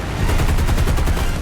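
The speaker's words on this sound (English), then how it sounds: "Right there, I was only using machine guns though" Machine guns of a P-39 fighter in War Thunder firing a loud, continuous rapid burst, close and steady throughout with no talk.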